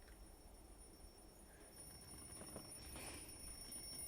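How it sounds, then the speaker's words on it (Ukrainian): An alarm clock rings in the Hello Guest video game as a thin, steady, high-pitched electronic tone. It holds faintly over a low hiss of background noise that swells slightly toward the end. "А то будильник."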